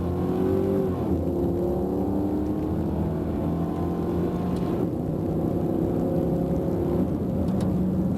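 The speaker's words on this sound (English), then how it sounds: "Now make some 3/4 throttle shifts" A Ford Lincoln car with an AOD-HP automatic transmission accelerating at three-quarter throttle, its engine droning steadily and loudly with rising then dropping pitch as the gears shift, heard from inside the car with no talk.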